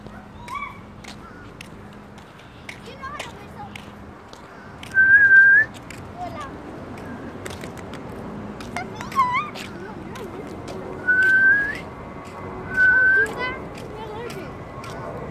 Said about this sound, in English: Why am I whistling?